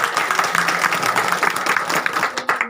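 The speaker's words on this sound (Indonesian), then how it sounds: "Tepuk tangan dong." An audience at a village credit institution's annual report meeting breaks into dense, lively applause that holds for a few seconds, fairly close and full.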